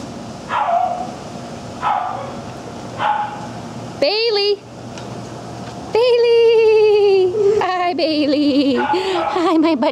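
Puppies bark and yip nearby: three short yelps spaced apart, then a higher whining bark and a longer stretch of overlapping barks and whimpers. People talk throughout.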